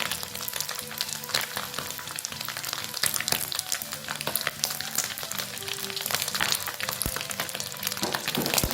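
Anchovies frying in hot oil for a tempe and anchovy sambal, a steady close crackle and sizzle with sharp popping spatters throughout.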